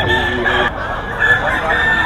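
Chickens and a rooster at a poultry market in Bocaue, with crowing and clucking through a short stretch as people talk nearby.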